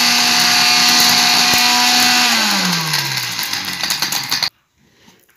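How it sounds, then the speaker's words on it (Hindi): A mixer grinder grinds seeded dried dates with a loud, close whirring motor that winds down in pitch, rattles briefly, then cuts to silence. "अब मिक्सी ऑन कर देंगे।"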